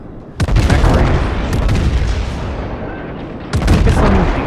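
Heavy booming salvos from the main guns of a US Arkansas battleship in a World of Warships naval battle, a loud blast followed by long rumbling reverberation, then a second thunderous volley near the end.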